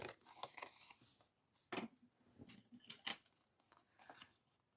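Scissors cutting folded paper while making a mail box, with scattered crisp snips and rustles at close range, some louder bursts among quieter handling sounds.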